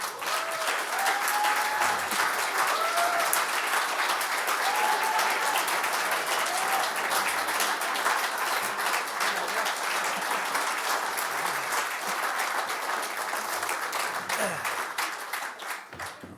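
A theatre audience at a showbusiness tribute interview applauds the arriving guest with steady, full clapping that holds for about sixteen seconds, faint voices beneath it, before fading slightly at the end.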